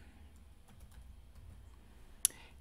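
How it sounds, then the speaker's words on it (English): Typing on a computer keyboard while setting up text for a pet photo ornament on an xTool M1 laser: a few soft, scattered key taps close by, ending in one sharper click. "So I'll go back up to text and I will type in Leia."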